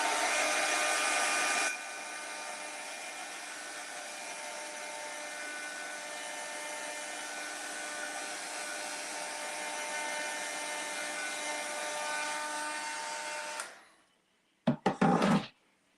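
Heat gun or hair-dryer-style heat tool blowing on glued scrap wood, a steady loud broadband whoosh for about fourteen seconds before it cuts off, followed by a few brief knocks.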